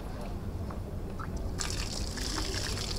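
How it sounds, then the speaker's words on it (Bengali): Running water splashes steadily from a tap at an outdoor hand-washing spot near a temple in Balasore, swelling into a brighter, louder stream partway through, with faint background chatter. "এখানে হাতটা ধুয়ে নেব"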